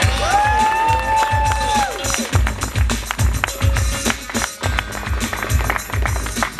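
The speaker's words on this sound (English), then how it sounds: "put a big round of applause together for Chip Foose!" A crowd at a Car Masters Weekend event at Downtown Disney applauds and cheers to welcome car designer Chip Foose, with loud, continuous clapping and voices over background music and hubbub.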